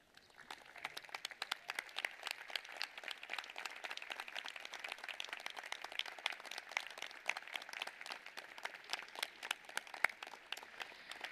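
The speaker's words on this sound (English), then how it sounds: "So students, let's stand and applaud your families and your professors." A graduation audience stands and applauds families and professors at a Jesuit school ceremony, sustained dense clapping from a large crowd that holds steady throughout at moderate distance, with no voices rising above it.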